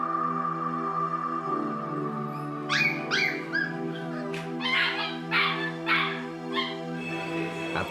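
Young puppies held at a veterinary hospital in South Africa yip and whimper in a quick run of thin, high cries, close and fairly loud over a steady background hum.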